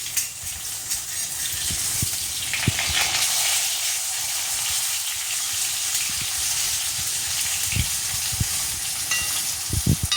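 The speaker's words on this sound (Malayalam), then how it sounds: "ഇപ്പം മീനൊന്ന് മടക്കിയിടാം." Fish fries in a pan with a constant hissing sizzle, broken by a few soft knocks and clicks as the pieces are flipped over. There is no talking.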